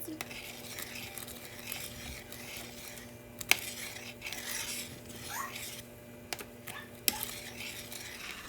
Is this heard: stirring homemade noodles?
yes